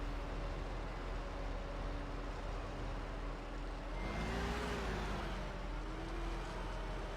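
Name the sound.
John Deere tractor engine straining while pulling, video game Farming Simulator 15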